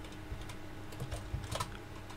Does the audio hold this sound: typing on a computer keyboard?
yes